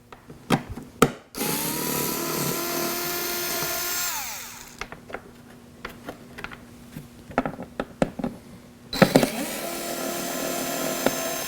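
A power driver removes screws from rear bumper panels on a Can-Am Spyder RT, giving several whirring bursts of varying length with clicks and handling knocks between them, up close and without talk.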